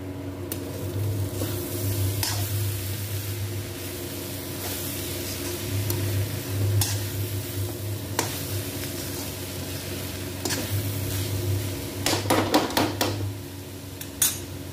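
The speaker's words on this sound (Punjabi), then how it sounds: "ਵਿੱਚ ਵਿੱਚ ਇਹਦੇ ਵਿੱਚ ਤੁਸੀਂ ਕੜਛੀ ਮਾਰਨੀ ਆ" Metal ladle scraping and clanking in a pan of methi aloo sabzi (fenugreek and potato), with a soft sizzle and a steady background hum, and a cluster of quick clinks near the end.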